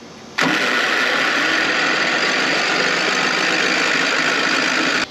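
A wood chipper's engine, under repair with worn-out spark plugs, spins over with an abrupt start and then a loud, steady mechanical roar that holds without a break to the end, with no talking.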